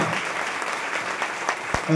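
An audience claps loudly for Eswar and Sudhakar at a testimony event, a dense, steady burst of applause close by lasting the whole moment.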